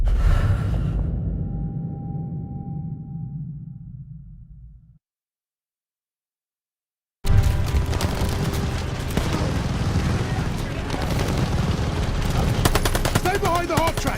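Heavy machine gun fire crackles continuously in a World War II battle in Call of Duty: Vanguard, loud and dense, broken by a brief silent gap before the shooting resumes around a half track.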